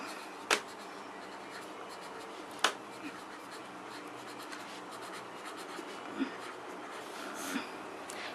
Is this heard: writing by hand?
yes